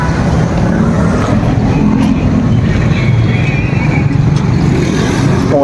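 A car reverse parking at a mall makes a loud, continuous low rumble with wind buffeting the microphone throughout, with no distinct separate events.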